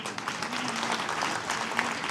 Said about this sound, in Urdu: میں چاہتا ہوں کہ آپ اپنے لیے ہی زوردار تالیاں بجائیں